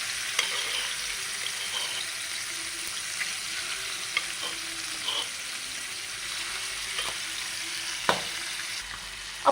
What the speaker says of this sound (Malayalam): ഓരോന്നായിട്ട് നമുക്ക് പതുക്കെ തിളച്ച എണ്ണയിലേക്ക് ഇട്ട് കൊടുക്കാം.